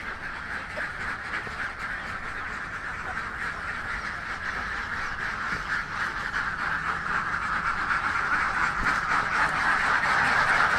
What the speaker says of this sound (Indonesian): Ini bebeknya sudah berisik minta dilepas.